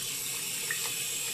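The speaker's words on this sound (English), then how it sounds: "So if we open the water slightly" A faucet opened only slightly lets out a steady, gentle stream of water, an even hiss-like splash that continues without change at low volume.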